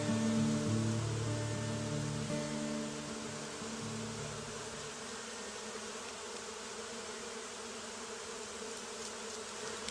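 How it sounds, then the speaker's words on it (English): A colony of bees swarming around a tree outdoors, a steady, faint, hissing buzz that runs throughout, with a low droning tone fading after the first few seconds. "We have up here just an entire colony of bees creating some type of amazing magnetic force field around this tree"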